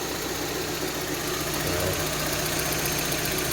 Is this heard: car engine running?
yes